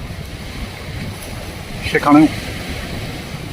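Sea waves washing onto an Andaman beach, a constant loud broad roar with wind noise, broken near the middle by a short spoken word.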